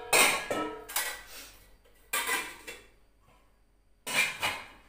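Metal idli steamer pots clank and rattle as they are set onto a kitchen shelf: four bursts of ringing metallic clatter, close and fairly loud, separated by short quiet gaps.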